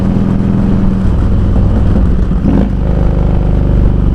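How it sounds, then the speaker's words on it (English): A loud motorcycle rides along with a heavy, steady engine drone and rumble, close and dominant, with slight shifts in pitch and wind noise. "This loud ass bike."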